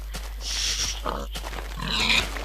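A pig in the Minecraft video game gives several short grunts and oinks at moderate volume over a steady low hum, with pauses between them.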